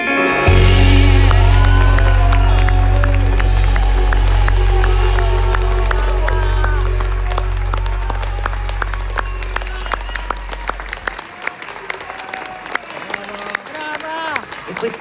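A large open-air concert crowd at San Giovanni gives sustained, dense applause with cheers and shouts over a loud, fading music tail, the clapping thinning out toward the end while voices are heard among the audience.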